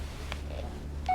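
In the horror game Blair Witch, a phone keypad gives a couple of short electronic beeps, a soft tone early on and a clearer, sustained beep at the end, over a low steady hum with no talking.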